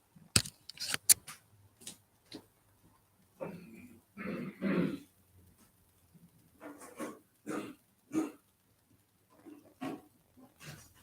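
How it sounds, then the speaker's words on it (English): Several short bursts of coughing and throat clearing from a person with flu, close and sharp, separated by brief quiet pauses. "I'm coughing my lungs up here."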